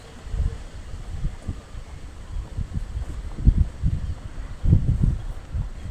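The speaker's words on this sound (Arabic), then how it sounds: "الهوا صعب قوي النهارده، هو الجو حلو بس الهوا صعب" Gusty wind rumbles and buffets against the microphone in low, irregular bursts, with a steady hiss beneath.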